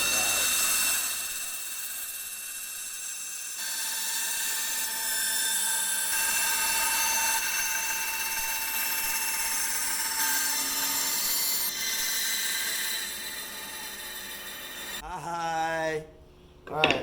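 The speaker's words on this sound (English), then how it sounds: "Let's go to the bandsaw." A bandsaw cuts through ash hardwood in a wood shop, a sustained whining, rasping cut that runs for about fifteen seconds, then the blade note drops as the machine spins down, followed by a short knock.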